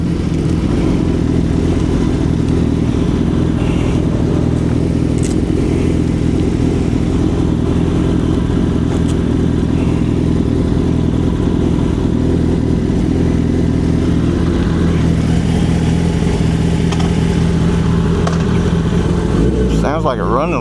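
Engine running after its exhaust pipe was tightened to stop air leaks, a loud, close, steady rumbling idle with a rattly clatter on top, lasting throughout with a sharper rev or clunk at the very end.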